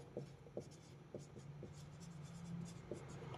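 Pen or marker strokes writing on a board or paper during a maths lesson on the number system, a series of short scratchy marks at an irregular pace under steady room noise.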